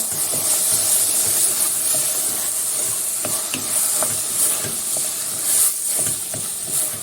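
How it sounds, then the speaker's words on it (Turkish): Steady sizzling hiss of green lentils and chili flakes sautéing in a hot pot, with occasional stirring clicks and scrapes, close and continuous. "İkisini beraber güzelce kavuruyorum."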